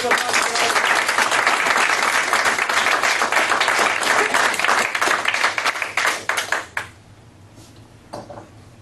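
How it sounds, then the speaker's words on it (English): Loud, dense applause from a hypnosis show audience for a hypnotised gentleman, sustained for about seven seconds before breaking into scattered claps and trailing off. "give this gentleman a round of applause"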